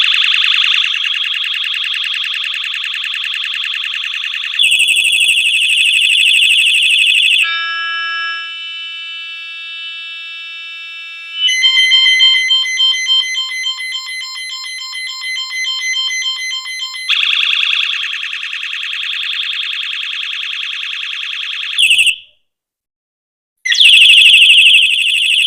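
A bicycle light speaker cycling through its electronic siren and alarm tones: loud, continuous wailing and warbling sirens, a beeping pattern and a rapid pulsing alarm, switching abruptly from one to the next with a brief silent gap near the end.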